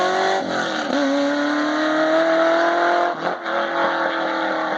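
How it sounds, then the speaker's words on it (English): A Chevrolet LS7 V8 swapped into a Porsche 997 holds a loud, close, steady drone that climbs slowly in pitch, with a brief dip in the throttle near the end. "The LS7, an American muscle V8."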